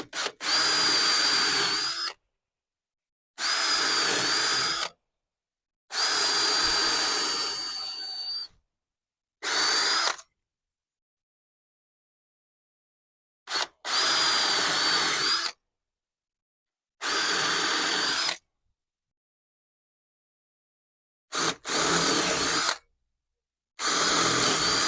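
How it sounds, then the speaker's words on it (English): A power drill bores small screw holes behind a koi pond window on a raised sleeper pond, running in eight separate bursts of one to three seconds each with silent gaps between, loud and close with no talking. "We'll drill little holes behind it where these screws go."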